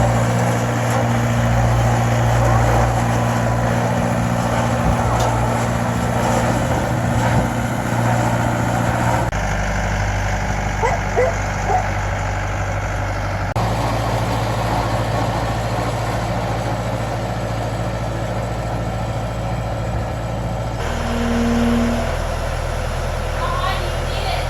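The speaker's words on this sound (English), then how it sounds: "Did you know that you can take a tractor and move a car with it?" A tractor with forks moves a wrecked car shell, its heavy diesel engine running as a steady low idling drone throughout. The engine note shifts slightly partway through, with faint outdoor noise in the background.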